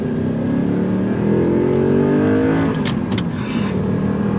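A 2009 Audi R8 with a gated 6-speed manual gearbox accelerates hard, its engine note climbing in pitch and then dropping back with a shift, loud and close, with some sharp clicks near the end.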